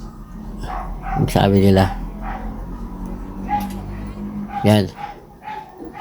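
A dog on a very dark rural road barks two loud, close bursts, the first a rapid run of barks and the second shorter a few seconds later, over steady noise while someone talks.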